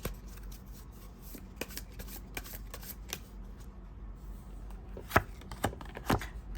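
Tarot cards are handled and shuffled up close, giving soft, quiet rustling with scattered light taps and a few sharper card snaps near the end.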